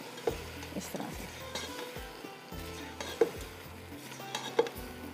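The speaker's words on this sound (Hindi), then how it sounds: "इसको करते हैं हम मिक्स अच्छी तरह से" A spoon stirring yakhni with black pepper, cumin and salt in a pot for murgh sabzi pulao: repeated scraping strokes over a soft sizzle, with a few sharp metallic clinks against the pot.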